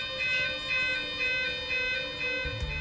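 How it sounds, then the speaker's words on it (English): A site fire alarm sounds as a continuous two-tone siren, loud and steady, its two pitches alternating in a regular rhythm throughout. "The site alarm is a continuous two-tone siren and sounds like this."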